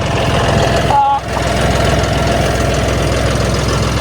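A 4WD tractor engine running loud and close, a steady throbbing mid-range rumble with a brief dip near the one-second mark.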